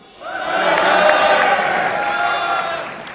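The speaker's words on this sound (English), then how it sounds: "Big Hero 5, if you support them, give us a chant on 3." Spectators at a university sumobot robot competition final cheering and chanting together for a robot team, a loud swelling burst of voices that rises quickly, peaks and then slowly tapers.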